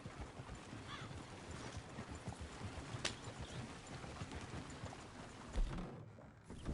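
Horse hooves clip-clop steadily in a game's old-western town setting, a continuous moderate patter of footfalls with no talking over it.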